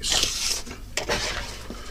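Small paint pots rummaged in a drawer, clattering and clinking against each other in a continuous close jumble, with a couple of louder knocks and no talk.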